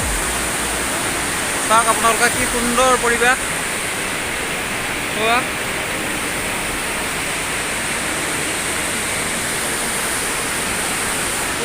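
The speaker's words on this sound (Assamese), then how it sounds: "এয়া ভৈৰৱকুণ্ড নদী" The Bhairabkunda river rushes with a constant, dense roar that fills the whole scene, while a voice briefly talks over it.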